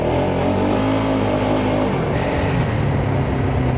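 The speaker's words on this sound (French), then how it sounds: "C'est dingue à quel point ça roule bien un quad sous la neige" A quad ATV engine drives through snow, a loud steady motor drone close by that shifts in pitch about halfway through as the gearing changes, with no voices over it.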